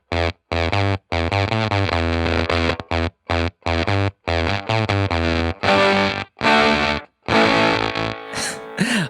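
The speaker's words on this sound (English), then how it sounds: "I'll show you what it sounds like with the bias knob turned all the way down." Guitar played through an Abrachinsky Effects Enigma V2 fuzz pedal with its bias knob fully down: loud, gated, sputtering fuzz notes that chop off abruptly between short strums, ending in a ragged, breaking-up tail.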